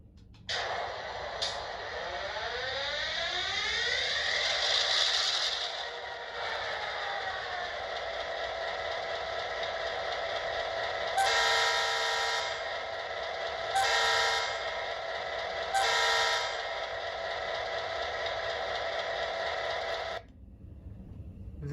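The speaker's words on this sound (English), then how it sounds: "This is a MTH GP38AC in the Maryland Midland scheme. It is DCC and sound equipped" An MTH GP38AC HO scale model diesel locomotive in Maryland Midland paint plays its DCC sound: a steady diesel engine drone with several loud horn blasts in the middle, the engine cutting off near the end.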